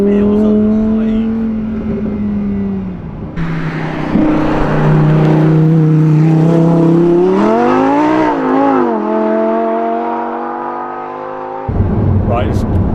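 A rear-wheel-drive 2021 Lamborghini Huracan Evo sports car driven hard on track, its engine loud and close, revving up and down through gear changes, with someone talking over it.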